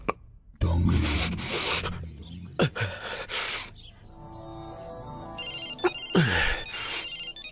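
A mobile phone rings in a Hindi film scene, a melodic ringtone starting partway through after rustling and rubbing sounds and carrying on to the end, fairly close.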